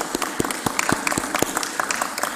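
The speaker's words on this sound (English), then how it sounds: "would we be able to clap for this report and thank all of our residents and the team that worked on this?" City council meeting audience applauding a report, a few seconds of steady, fairly close clapping from a modest group with distinct individual claps standing out.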